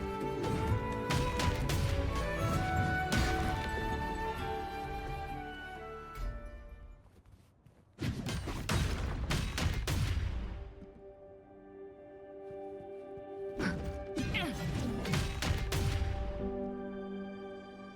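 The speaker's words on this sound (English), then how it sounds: "Here's her basic attack chain." Zani's basic attack chain in Wuthering Waves: bursts of sharp impact hits and crashing strikes in quick clusters, separated by brief pauses, loud and close with ringing tonal effects.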